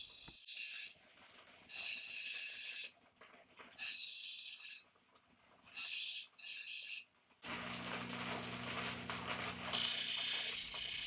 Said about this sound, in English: Now it's time for the 280 grit resin wheel.